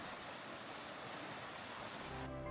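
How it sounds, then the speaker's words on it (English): Steady, loud rushing water from a waterfall in Lauterbrunnen, Switzerland fills the whole clip with a constant broadband roar, then a low hum appears near the end. "You don't need music, you just listen to the water."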